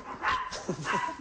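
A small female dog barks from close by, giving two or three sharp, yappy barks in quick succession.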